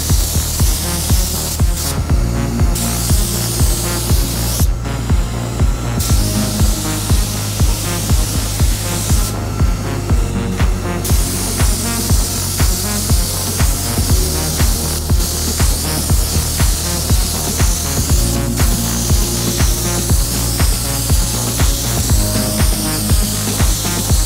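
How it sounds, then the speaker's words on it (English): Spray gun laying down primer, base and clear coat paint, a steady hiss of atomized spray in repeated long passes with brief pauses between strokes, close and loud, alone without talk. "I've just sprayed"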